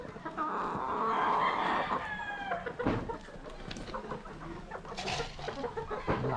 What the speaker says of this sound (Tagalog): Ayan o, ang ganda ng mga stag natin.